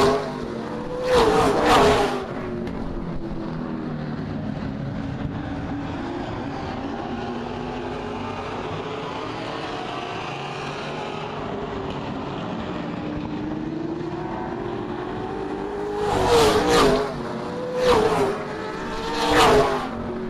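ABC stock cars race at Springport Motor Speedway, their engines whining and droning in rising and falling sweeps as they circle the track. Louder passes roar by close at the start and again near the end, with a steady engine drone between them.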